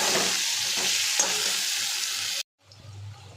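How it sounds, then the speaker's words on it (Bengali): Cumin powder and green chillies fry in a pan with a steady bright sizzle and a few stirring scrapes, stopping abruptly before a quieter, softer sizzle resumes. "এবার জিরের গুঁড়ো দিয়ে একটু ভেজে নেব, আর সাথে হচ্ছে কাঁচা লঙ্কা"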